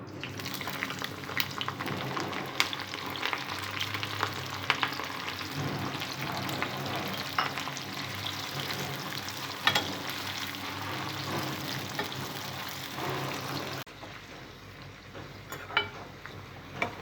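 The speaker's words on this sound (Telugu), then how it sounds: "ఆయిల్ వేడైన తర్వాత చిక్కుడుగాయలని డీప్ ఫ్రై చేసుకోవాలి." Broad beans deep frying in hot oil in a pan on the stove, a steady moderately loud bubbling sizzle throughout with occasional stirring clicks, and the sound drops slightly near the end, no talking.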